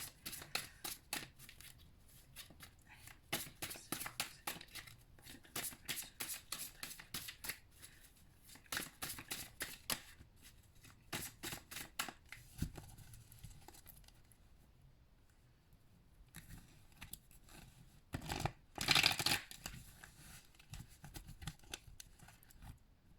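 Tarot cards shuffled back into the deck, a long run of quick riffling and papery flutters in bursts with brief pauses, close and fairly quiet, no talking.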